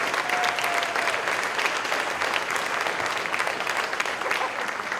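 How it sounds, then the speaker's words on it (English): An audience at a city awards ceremony gives a steady round of applause, a dense wash of many hands clapping at moderate distance, even and unbroken throughout. "So please give them a round of applause"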